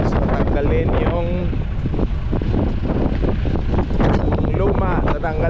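Strong wind of about 47 mph buffets the microphone on a boat, giving a loud, constant roar with gusty fluctuations while someone talks over it.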